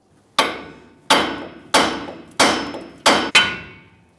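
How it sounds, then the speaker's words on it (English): Six sharp metallic hammer strikes on a steel steering knuckle of a 1999-2006 Chevrolet Silverado front suspension, knocking the lower ball joint loose, evenly spaced and loud with short ringing decays. "Now that I have the upper ball joint dislodged, we're going to continue tapping, but this time it's going to be lower on the knuckle."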